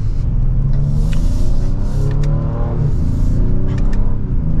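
A 2025 Ford Explorer ST engine drones steadily from inside the cabin on a test drive, with a low, continuous rumble and a slight rise and dip in revs, loud and uninterrupted.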